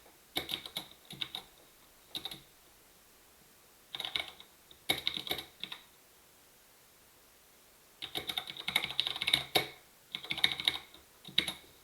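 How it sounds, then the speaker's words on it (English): Bursts of computer keyboard typing come in short, irregular clusters of close, crisp key clicks separated by quiet pauses, with no talking. "And I'm going to type"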